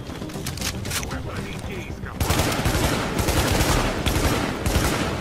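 Sustained gunfire exchange in the video game The Division, dense continuous bursts of shots that grow louder and busier partway through, with a voice talking over the action.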